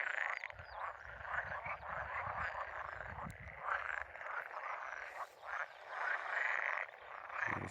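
A dense chorus of frogs croaks steadily at a pond during spawning season, many overlapping calls forming a continuous throbbing wash with no talking.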